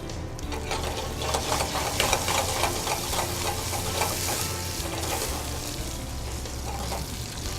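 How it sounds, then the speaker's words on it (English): Chorizo sausage renders and fries in extra virgin olive oil with roasted tomatoes, a loud, steady, close sizzle with crackling spatters running throughout, no voices. "Start by rendering up some chorizo sausage, and a little bit of extra virgin olive oil, our roasted tomatoes"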